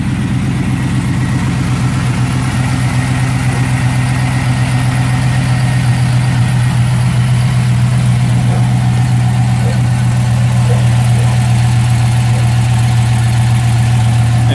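A rebuilt, cammed 5.3-litre LS V8 in a 2003 GMC Sierra idles loud and close, a steady deep drone with a lumpy, even pulse that holds throughout.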